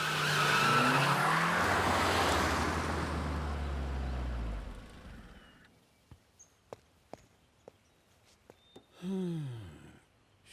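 A car in a chase pulls away with a loud burst of engine roar and skidding tires that fades out over several seconds, followed by scattered faint clicks and a brief rising whoosh near the end.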